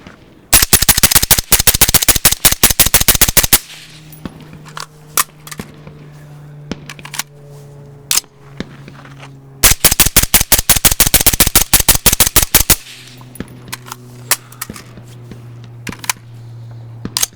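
A .22 rifle fitted with a B&T Tiger suppressor is fired as fast as possible in two long rapid strings of sharp cracks, each lasting about three seconds, with a few scattered shots and mechanical clicks between them under a low hum.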